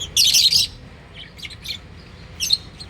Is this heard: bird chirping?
yes